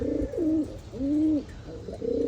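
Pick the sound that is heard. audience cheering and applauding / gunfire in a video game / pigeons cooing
pigeons cooing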